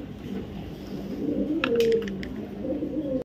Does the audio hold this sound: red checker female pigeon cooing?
yes